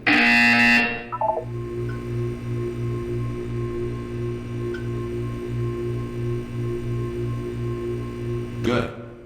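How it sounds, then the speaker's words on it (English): Buzzer in the Portal 2 video game: a steady, pulsing low electronic buzz repeating in a fast even rhythm for several seconds after a brief burst of speech, ending with a short loud click. "You will hear a buzzer."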